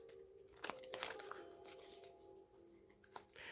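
Tarot cards being shuffled, soft papery riffling and crinkling in short bursts, quiet and close, with a faint tonal hum underneath.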